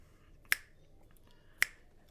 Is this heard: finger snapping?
yes